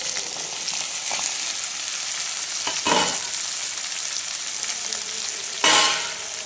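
Okra pieces with turmeric fry in a pan with a continuous close sizzle, broken by a few louder scraping stirs, one near the middle and a sharper one toward the end.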